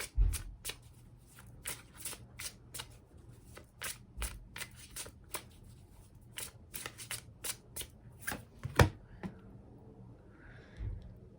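A deck of tarot cards is shuffled by hand up close, with a steady run of crisp riffling snaps and papery flutters repeating over several seconds.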